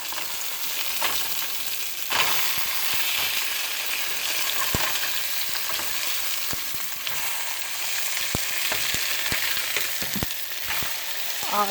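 A steak sizzles steadily in a frying pan just after being flipped, with a dense close hiss and scattered sharp pops and crackles throughout.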